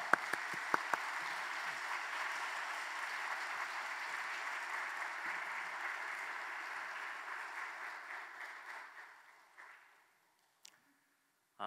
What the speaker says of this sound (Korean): 우리 교수님 나오실 때까지 좀 큰 박수로 환영하도록 하겠습니다